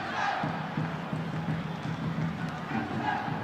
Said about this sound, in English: you can really hear the crowd start to get behind them